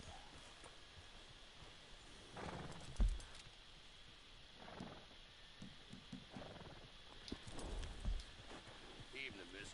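Horse hooves clip-clopping at an easy walk in the open-world game Red Dead Redemption 2, soft and steady under a constant ambient wash, faint against the background.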